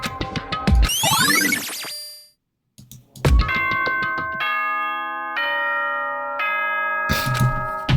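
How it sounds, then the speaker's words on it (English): A nighttime bell chime rings out in a video game: bright, resonant bell tones sound alone with a brief gap of silence midway, then a series of sustained, ringing chimes follows and lingers to the end. "Is that the nighttime bell?"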